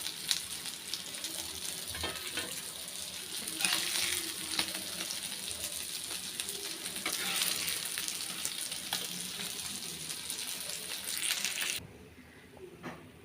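Vanjaram fish frying in a pan, a steady close sizzle with crackling oil spatters throughout, dropping suddenly quieter near the end as the heat eases or the fish is lifted out.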